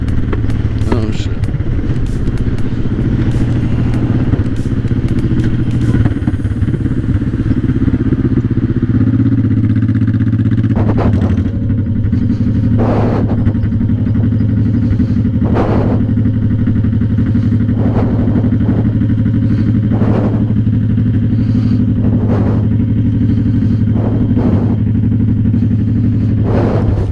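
A motorcycle engine runs steadily and loudly throughout while riding to a store, with a constant low drone, occasional clattering spikes and wind rumble, and no talk.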